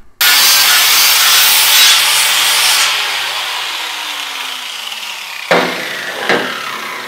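An angle grinder smoothing down welds on a metal door for an underground vault, a loud sustained abrasive whine that gradually drops in pitch, then two short bursts of grinding as it touches the steel again.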